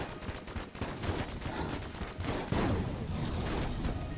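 A rapid-fire strafe gun shooting at a dragon in the game Enter the Gungeon, a dense continuous stream of shots under a busy, loud game soundscape.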